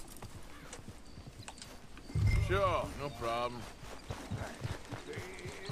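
Horse hooves clip-clop in the video game Red Dead Redemption 2, a steady patter beneath a man's speech that swells briefly louder midway.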